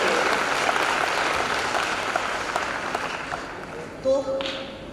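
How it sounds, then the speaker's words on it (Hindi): Sustained audience applause from a crowd at a college lamp-lighting ceremony, loud and steady throughout, tapering slightly near the end with a few brief louder claps. "दूसरी ताली आप अपने कॉलेज प्रशासन, अपनी नीता मैडम के लिए"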